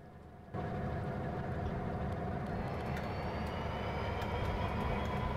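In the game Rolling Line, a train starts up abruptly after a brief near-silence and then runs along the track as a steady rumbling drone with a faint whine, continuous and fairly quiet.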